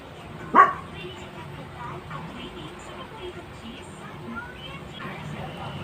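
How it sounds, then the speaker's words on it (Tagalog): A single sharp dog bark rings out early, followed by quiet room noise with faint murmurs. "Maingay yung aso ng kapitbahay namin."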